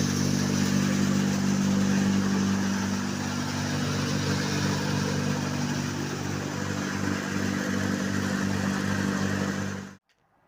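A homemade grain winnower runs with a steady, loud mechanical drone and hum, a constant motorized whir with light rattling that continues unchanged for about ten seconds before cutting off abruptly.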